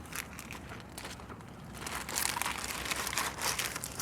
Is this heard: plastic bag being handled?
yes